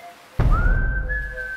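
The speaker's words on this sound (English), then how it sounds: "He's whistling." A person whistles a single sustained, slightly rising note that holds steady after a sudden thump at the start, close and clear with a faint second tone near the end.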